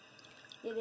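Spinach and mustard greens being washed by hand in a pot of water, with soft sloshing and dripping that swells into a louder splash near the end; no voice is heard.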